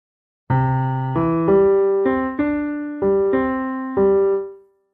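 A piano left hand plays low notes in a long-short rhythm, eight notes that alternate long and short, then the final note rings out and fades.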